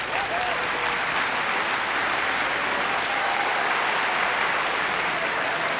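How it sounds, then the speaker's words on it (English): Audience applause at the Attitude Awards 2015 during a balloon modelling act, a continuous dense round of clapping lasting several seconds, even in loudness throughout. "Round of applause for Sam."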